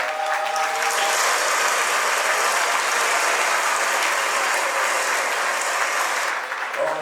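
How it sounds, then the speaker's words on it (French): Wedding guests applaud at a Gabonese wedding evening reception, a loud, dense burst of crowd clapping that holds steady for several seconds before tapering off near the end. "Les hommes, par applaudissement,"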